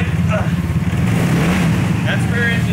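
Both engines of a homemade double-engine go-kart idle together, a steady loud low rumble with a constant hum and no break, while someone speaks briefly over it.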